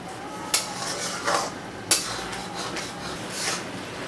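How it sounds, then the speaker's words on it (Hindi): A spoon scrapes and knocks against a pan while carrot halwa is stirred over high heat, several sharp metallic clanks among softer rubbing strokes, close and fairly loud, no talking. "आंच वापस से तेज करें आप और चलाते हुए इसको पकाएं।"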